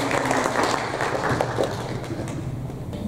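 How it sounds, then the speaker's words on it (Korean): Congregation clapping during a Sunday church service at a Korean Presbyterian church, a fairly dense, steady round of applause with some low murmur underneath. "인사할 때 다시 한번 크게 박수 합시다"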